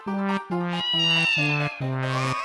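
Two people mimic a cat, letting out a run of five drawn-out, nasal meows one after another, close and fairly soft, with no other talk.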